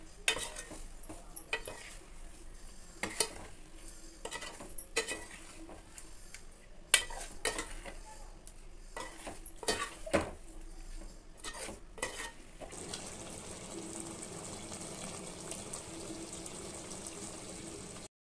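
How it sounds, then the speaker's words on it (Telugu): Salt and chili powder stirred into a fish curry of bommidayilu (eel loach) in a pot, with repeated scraping clatters of a spoon against the vessel over a low sizzle; the last stretch settles into a steady bubbling hiss. "ఉప్పు కారం వేసేసుకొని కలిపేసుకున్నాను"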